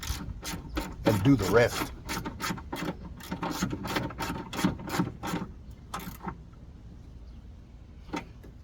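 A socket ratchet tightens a fitting during an alternator charger install in a Toyota Sequoia, producing rapid bursts of close, dry clicking that pause and restart, with a brief spoken comment near the start.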